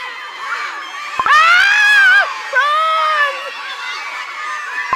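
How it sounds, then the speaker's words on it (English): A crowd in the Cookie Run: Kingdom video game bursts into loud, high-pitched screaming and shouting in two long overlapping waves, close and intense, over a faint background tone. "Where did that scream come from?"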